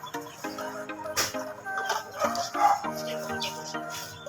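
Shamo gamefowl kept as backyard pets cluck in a run of short, uneven calls, close by, with other birds and farm sounds mixed in and no talking.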